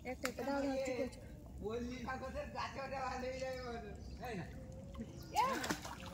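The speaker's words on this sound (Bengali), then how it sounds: "ঝপঝপ করে পড়ে আসছে জল।" Water splashes and slops repeatedly while people talk over it, with lively voices, including a child's, dominating the scene on a crab-catching outing in a jungle creek.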